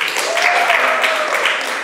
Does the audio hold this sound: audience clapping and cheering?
yes